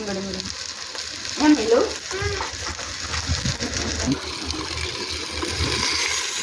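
Village-style mutton curry bubbles and fries in a clay pot, a loud, continuous sizzle with stirring scrapes as people talk over it.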